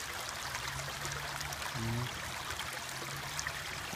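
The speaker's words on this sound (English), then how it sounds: "Yeah, that's a creek." A rainy outdoor creek rushes and burbles continuously, a steady broad wash of flowing water with a faint low hum running through it.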